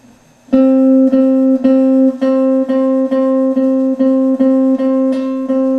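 A guitar note repeatedly picked with even downstrokes, about ten sharp attacks in a steady rhythm, each ringing full and sustained, with no talking.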